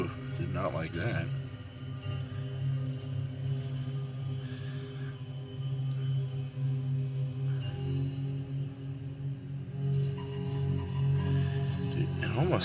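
Sustained, layered drones from a Pulse Synthesizers Loadrunner granular synth with a bowed, cello-like or orchestral character, swelling softly over about twelve seconds while a voice murmurs faintly underneath.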